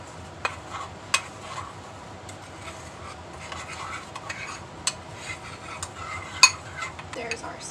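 A spoon stirring sauce with Worcestershire sauce in a pan to blend it for a skull meatloaf, with light scraping and scattered metallic clinks against cookware throughout, close and fairly quiet.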